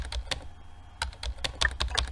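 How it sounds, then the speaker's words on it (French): Keys tapped on a computer keyboard while typing out letters, a quick irregular run of close, crisp clicks with a brief pause in the middle. "tout ce que je fais, c'est peser sur une touche de mon clavier et ça rentre une lettre"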